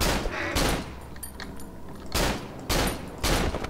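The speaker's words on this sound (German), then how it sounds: "jetzt habe ich gerade ein bisschen Kacke gezielt und geschossen" Shots boom out in the horror game Cry of Fear, four loud separate blasts spaced across a few seconds over a murky background.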